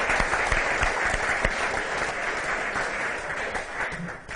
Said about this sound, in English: Round of applause for our huggers.